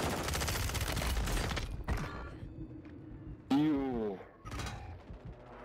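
Rapid automatic gunfire in a first-person shooter game, a loud sustained burst of shots up front, then scattered bangs and mechanical clatter, with a voice talking briefly in between.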